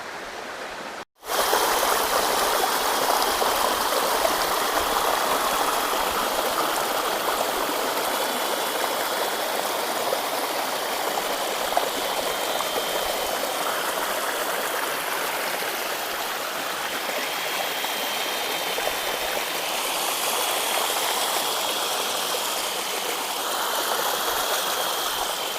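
Ubbalamadugu waterfall in Andhra Pradesh, a steady, full rush of falling water heard close and continuous, with no voices over it.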